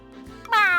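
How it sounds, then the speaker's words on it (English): Gary the snail from a SpongeBob SquarePants video game gives a single short, clear meow that rises in at the end, heard alone. "Hi, Gary. Meow?"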